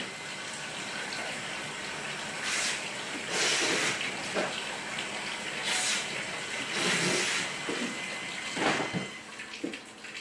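A Chemdraw 5900-BT (Sig III series) water treatment system cycling through backwash: steady hissing, rushing water with several louder gushing surges at irregular intervals, close and continuous throughout.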